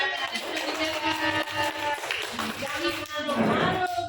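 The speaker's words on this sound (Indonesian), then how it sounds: "Oke, tepuk tangan." Elementary school children clap together in a burst of scattered applause, mixed with lively chatter and voices throughout.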